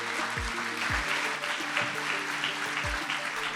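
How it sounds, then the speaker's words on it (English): A round of applause for city councilmember Cedric Hicks at a South Bay cities general assembly in Carson, a steady wash of clapping from the audience with low hum and a few thumps beneath it. "Let's give him a round of applause."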